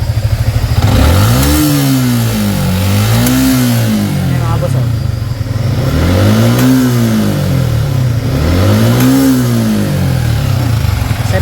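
A Yamaha Sniper 155 motorcycle engine revs repeatedly toward 7,000 RPM, climbing in pitch to a high whine and dropping back, in four loud, close cycles.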